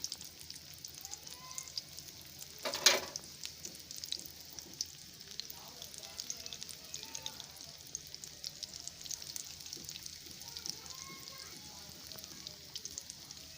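Potato snacks fry in a pan over a low flame, a faint, quiet bubbling sizzle with scattered soft pops and one brief louder clatter near the start.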